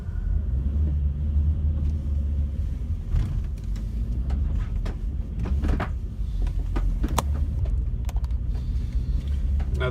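A van climbing a steep road into North Head Reserve, with a steady low engine and road rumble plus scattered interior rattles and clicks throughout.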